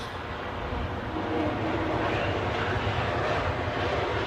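A jet plane on arrival at London Heathrow airport gives a steady, broad roar that swells slightly as it draws nearer, a continuous engine rush heard from moderate distance with no voices.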